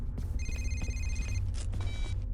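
Telephone ringing in the horror game Condemned: two bursts of a bright electronic ring over a low rumbling ambient drone with scattered knocks and thuds, no voices.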